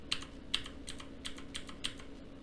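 Computer keyboard keys pressed one after another at a steady pace, six crisp close clicks over a low background hum, with no talking.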